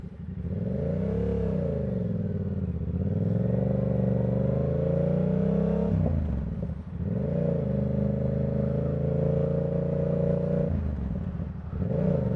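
Yamaha R7 motorcycle engine and exhaust running steadily with rising and falling revs, burbling and popping as the throttle rolls on and off, sustained close-up for the whole stretch.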